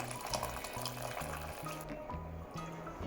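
Hot water poured into a Marathi-style egg curry masala in the pan, a continuous close liquid pouring and bubbling sound with faint low rhythmic hum beneath.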